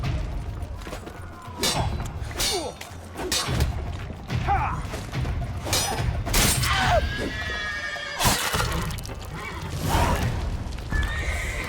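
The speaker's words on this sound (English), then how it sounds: "Roderick sent him to get the horses." Horses neigh and whinny repeatedly in The Witcher III, with hooves clip-clopping amid a busy, clattering fight scene, several loud whinnies rising above the din.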